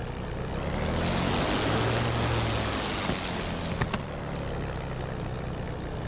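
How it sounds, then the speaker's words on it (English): Spitfire Mk IX piston engine in DCS World throttling up, a dense, steady roar with a broad rushing wash that swells briefly, nearby and alone. "Let me throttle up the engine."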